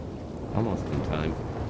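Steady hiss of rain falling in the open world of Red Dead Redemption 2, with low rumbles like distant thunder rolling beneath, continuous and fairly loud for the whole stretch.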